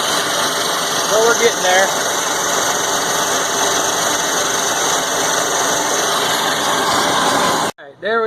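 A milling machine with a 2-inch end mill cuts steel while profiling the blade of a homemade 45-ton log splitter, a steady loud grinding drone that runs unbroken before stopping abruptly, with a voice briefly speaking over it.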